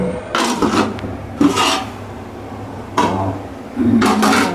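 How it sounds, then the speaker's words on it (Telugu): A lid set on a cooking pot of Hyderabadi bagara rice with water, giving four short metallic clatters and scrapes spaced about a second apart, close and fairly loud. "మూత పెట్టేద్దాం"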